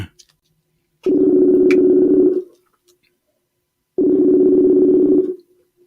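A telephone ringing unanswered, two long buzzing rings separated by a pause of silence, clear and close.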